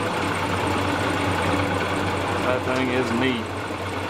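A metal shaper machine driven by a bull gear and cam runs with a steady mechanical drone and hum, while someone speaks briefly over it.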